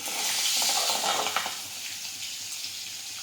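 Mustard seeds, cumin, asafoetida, curry leaves and chillies hit hot oil in a pan, giving a loud, bright sizzle that peaks early, crackles briefly, then settles into a steady hiss.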